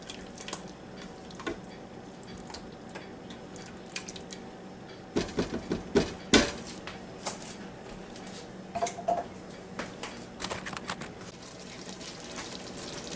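Beef and noodles mixed in a Ninja Foodi pot, with scattered close clinks and scrapes of a utensil against the pot, getting busier toward the middle and continuing irregularly over low background noise.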